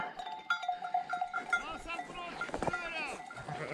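Sheep bleat several times in an outdoor farm setting on a rainy day, with people talking nearby throughout.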